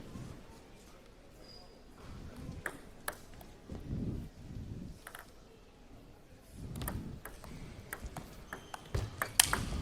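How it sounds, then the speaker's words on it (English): Table tennis forehand strikes in a women's singles final at a college national tournament: sharp, crisp cracks of the ball at uneven intervals in a large hall, with faint voices and a low murmur in the room. "You could just hear her hitting that forehand, which is crack."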